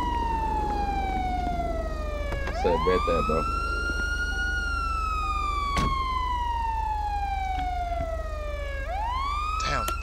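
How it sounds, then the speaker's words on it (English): Police sirens in a GTA roleplay game wail continuously with sweeping rising and falling tones, loud and close, while someone talks briefly over them. "these sirens pissing me off"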